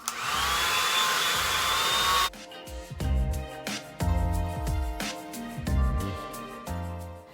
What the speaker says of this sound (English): first things first, blow dry, focusing on the roots